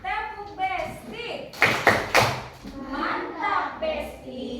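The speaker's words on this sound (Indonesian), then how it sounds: "Berikan tepuk besti untuk Zahra." Children in a classroom perform a patterned group clap for a classmate, a few bursts of sharp claps in the middle set amid children's and a teacher's voices before and after.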